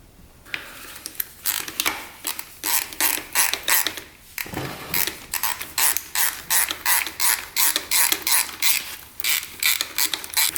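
Wrench ratcheting as a transmission oil drain bolt is loosened on a Honda dirt bike, a rapid series of close, crisp ratchet clicks in short repeated strokes, with a brief pause partway through.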